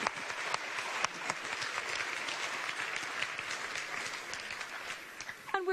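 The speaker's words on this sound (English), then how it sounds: "let's give our winners another big round of applause" An audience claps steadily through nearly six seconds at the 2019 RegioStars awards ceremony, a sustained, moderately distant round of applause for the winners with sharp individual claps standing out near the end.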